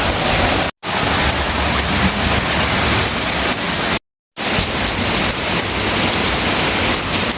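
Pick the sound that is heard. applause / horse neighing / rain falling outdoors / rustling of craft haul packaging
rain falling outdoors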